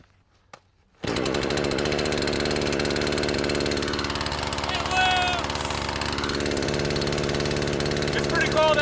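A small engine, started for forest-clearing work on a cold day, catches abruptly after a brief quiet click and settles into a loud, steady, close idle that runs on without pause.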